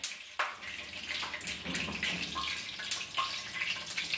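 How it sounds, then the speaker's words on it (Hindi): Hot ghee poured over thick Kashmiri hareesa, giving a hissing, gurgling sizzle in uneven bursts with sharp onsets, close and moderately loud, with no talking. "गरम गरम घी जो है हम इसके ऊपर डाल देंगे।"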